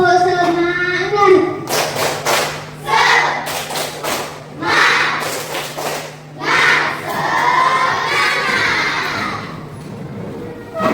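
Children at a camping ice-breaker session perform the 'tepuk semangat' clap chant, with rhythmic bursts of group clapping and shouted chanting voices, loud and close, repeating in patterned beats.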